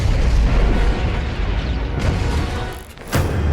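Booming weapons fire and explosive bursts from a Marvel movie battle scene, a dense loud roar of blasts with a sharp fresh impact near the end.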